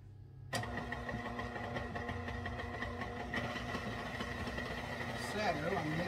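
A stand mixer kneads dinner roll dough with added flour. Its motor starts abruptly after a brief silence, then holds a steady, fairly loud whirring hum with a slight rise near the end.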